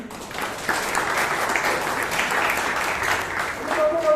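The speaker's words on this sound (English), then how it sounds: "Give a round of applause to him." A room of attendees at a Toastmasters club meeting in Bangalore applauds steadily, a dense wash of clapping rising shortly after the start and holding for about four seconds.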